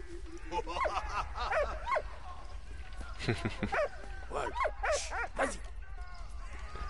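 A dog in the video game Valiant Hearts: The Great War yips, whimpers and barks in a rapid series of short calls, close and clear, with a voice speaking over parts of it.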